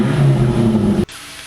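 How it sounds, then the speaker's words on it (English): Turbocharged Toyota MR2 Spyder with a 2ZZ engine driving, a loud steady low engine drone with strong harmonics for about a second before it cuts off abruptly to near silence. "enjoy the sounds and looks of my MR2 Spyder"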